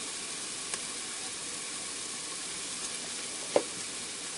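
Onions, garlic and spices including cayenne, salt and black pepper sauté in a pressure cooker for barbecue beef brisket, a steady soft sizzle with a couple of faint clicks of a utensil, no voices.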